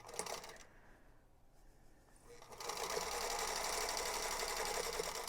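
A sewing machine stitches a quilt block seam, starting with a brief burst, pausing, then running in a fast, steady, close whir of needle strokes.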